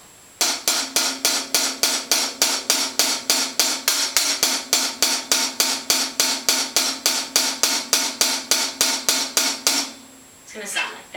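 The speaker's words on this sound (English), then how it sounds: "you're going to be doing eighth notes on a closed hi-hat" Closed hi-hat played in steady, even eighth notes for a slower Brazilian bossa nova drum pattern, about thirty crisp metallic ticks at a constant tempo, loud and close, with no talking.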